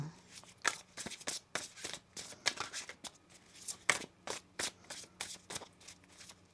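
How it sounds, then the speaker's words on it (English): A deck of tarot cards being shuffled up close, a run of quick papery riffles and slaps in uneven bursts, with no voices over it. "One more shuffle here."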